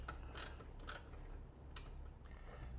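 A ratcheting wrench working a fender brace bolt on a Subaru WRX, a few faint quick ratchet clicks spaced about half a second apart in a quiet garage.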